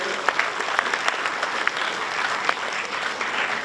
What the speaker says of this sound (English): Give a huge applause for General K.J.